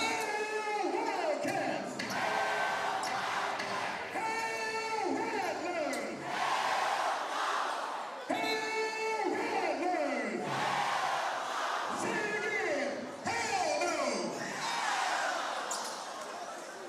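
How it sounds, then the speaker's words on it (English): A packed crowd roars and chants rhythmically in Moore Gymnasium during a Bethune-Cookman versus Florida A&M men's basketball game, with loud surging waves of noise and a band in the building, while an announcer talks over it. "The crowd is packed."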